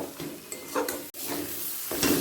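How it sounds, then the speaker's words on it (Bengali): Fried egg stirred with onions in a pan for egg tadka: scraping spatula strokes and a clink against the pan over a steady sizzle, with one brief sharp click midway and no talking. "এবার পাশ থেকে পেঁয়াজের সাথে পুরোটা মিশিয়ে নেব"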